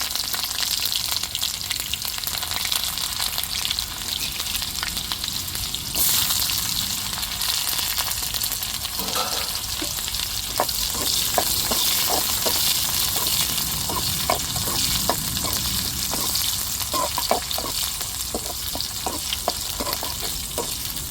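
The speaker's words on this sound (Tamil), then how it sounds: "இப்போ எண்ணெய் சுடறிட்டு வெந்தயம் போட்டுக்கிறோம் சாலை குழம்பு குழம்புக்குள்ள வெந்தயம் சேருங்க இப்போ வெங்காயம் சேர்த்துக்கிறது" Onions and fenugreek seeds sizzle in hot oil for a sardine fish curry, a loud continuous frying hiss with crackles and bursts of stirring clatter, steady throughout with no voices.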